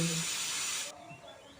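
A pressure cooker vents steam while bananas boil inside, a steady close hiss that cuts off abruptly partway through, leaving a quiet room tone.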